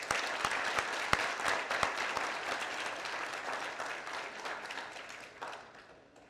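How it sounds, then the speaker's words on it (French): Warm crowd applause at a school education event, dense and sustained at first, then gradually tapering and thinning toward the end, with no speech over it. "un applaudissement chaleureux pour eux"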